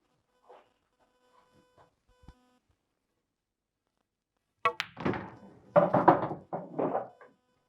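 Pool balls clack together as a red is potted, several sharp knocks near the start followed by faint rattles, then a louder cluster of clicks and rolling contacts a few seconds later.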